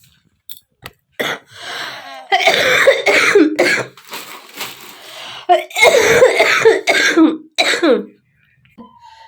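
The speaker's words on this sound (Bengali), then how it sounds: "এত কাশি হচ্ছে কাশিটা কিছুতেই কমছে না" A woman with a persistent, lingering cough lets out several loud, harsh coughs in clustered fits, separated by short pauses and a few brief quiet sounds, close to the listener.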